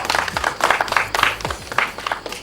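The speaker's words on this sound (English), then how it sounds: "A round of applause for" A round of applause for a returning scholar, with several brief bursts of clapping mixed with background noise and a faint voice in the mix.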